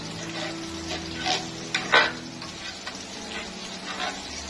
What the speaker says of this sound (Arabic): معايا بس السمنه كده تسيح مع شويه الزيت اهو